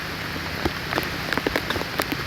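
Steady heavy monsoon rain in the Konkan region pattering on a surface, with scattered heavier drops tapping through a constant wash of noise.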